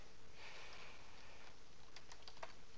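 Computer keyboard keys tap out a command in a console, a faint run of quick clicks bunching together near the end over a steady background hiss, with no voices.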